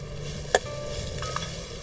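Freshly grated coconut sautés with roasted coriander seeds in a pan on a slow flame, a quiet steady sizzle with one sharp clink or tap and a couple of faint scrapes.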